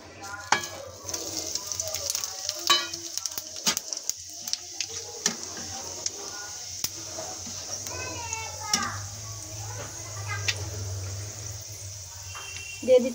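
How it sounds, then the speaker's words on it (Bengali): Bay leaves, cumin and cinnamon crackling in hot oil for a jackfruit curry, a steady sizzle with sharp pops and stirring scrapes, while children's voices and talk carry in the background. "ফোড়নের জন্য নিয়ে নিয়েছি 3টে ছোট তেজপাতা, জিরে, 2 টুকরো দারচিনি"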